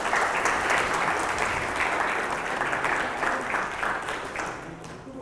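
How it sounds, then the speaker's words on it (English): An audience gives a speaker a sustained round of applause at the close of a talk on brand creation. The clapping is dense and steady and fades slightly toward the end. "a round of applause, ladies and gentlemen"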